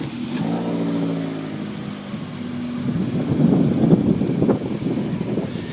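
A new Fiat 500 Abarth is started and revved: a steady tonal engine note gives way to a louder, rougher rising rev, heard close with no talking.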